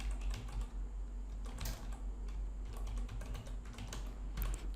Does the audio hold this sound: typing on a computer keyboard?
yes